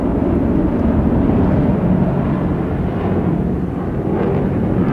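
Jet aircraft of the Bayi aerobatic team performing a solo maneuver at the Zhuhai airshow, a loud, continuous broadband roar that holds steady throughout with no talk.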